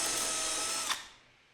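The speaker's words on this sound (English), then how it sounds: "I went back with the larger bit and a depth stop to drill them all to the final size" Power drill whines steadily while boring a hole into a walnut desk with a larger bit and depth stop, then spins down and stops, leaving near silence.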